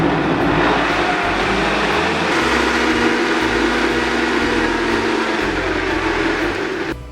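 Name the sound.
blender blending akara bean batter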